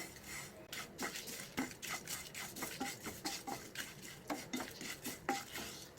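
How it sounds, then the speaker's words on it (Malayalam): Whole spices for garam masala dry-roast in a pan, their rattle stirred constantly by a spoon in quick, rhythmic scraping strokes, fairly quiet and close, with no talking. "ചൂടാക്കുന്ന സമയത്ത് കൈ വിടാതെ തന്നെ ഇതുപോലെ തന്നെ ഇളക്കി കൊടുക്കാനായിട്ട് ശ്രദ്ധിക്കുക"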